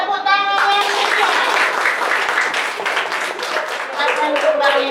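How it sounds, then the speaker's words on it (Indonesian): A sixth-grade class in an Indonesian school bursts into lively applause, many hands clapping close and loud for several seconds, with a few voices calling out at the start. "Kita apresiasi, beri tepuk tangan yang hidup."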